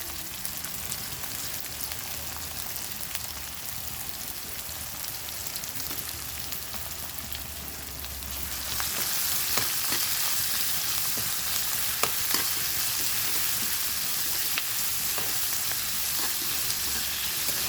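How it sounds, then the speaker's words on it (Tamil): Small chopped onions and a handful of curry leaves fry in hot oil, a dense hissing sizzle that grows louder midway as more goes into the pan, with scattered light clicks of stirring and no talk. "வெங்காயம் கொஞ்சம் நல்லா பொன்னிறமாக வதங்கி வரணும்"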